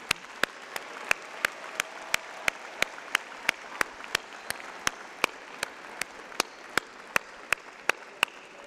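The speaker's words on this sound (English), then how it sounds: "Graduates, let's give a big round of applause in appreciation of your family" Audience applause at a university business school spring commencement ceremony, heard as a steady wash of clapping punctuated by regular sharp clicks at a brisk even pace throughout.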